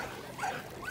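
Dogs at a lake beach on Lake Balaton in Fonyód, Hungary, giving two short whimpering yips about half a second apart, fairly close, over soft outdoor background noise.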